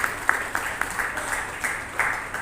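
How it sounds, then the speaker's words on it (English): Applause from an audience at a hospital proton cancer centre event, honouring the physics team: brief, fairly quiet scattered clapping with a few sharper claps, lasting a couple of seconds. "round of applause for the physics."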